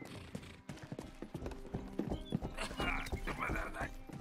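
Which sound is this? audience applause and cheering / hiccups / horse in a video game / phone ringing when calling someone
horse in a video game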